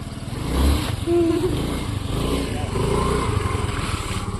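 A motorcycle engine drones steadily at close range, a low rumbling idle that swells slightly, with people talking faintly underneath.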